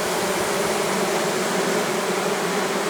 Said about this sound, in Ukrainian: Яка гарнюня, гарнюня крупна бджола.